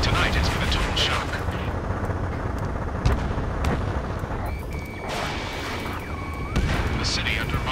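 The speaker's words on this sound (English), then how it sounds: "Gunfire and the roar of jets echoing through the streets." Bursts of distant gunfire and booms crackle over a dense rumbling backdrop of jets roaring through city streets in the video game Ace Combat 7: Skies Unknown, with a few sharp cracks standing out.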